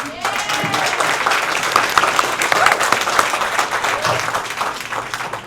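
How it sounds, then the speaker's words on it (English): Audience applause for candidate Serena at a Democratic club candidate forum, steady crowd clapping throughout at a moderate distance, with some voices mixed in under it. "let's give a round of applause for Serena"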